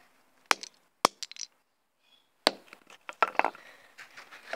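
A toy car smashed up close: a few sharp isolated cracks and knocks, a brief pause, then a rapid cluster of plastic impacts and rattling debris, loud and dry with no voices.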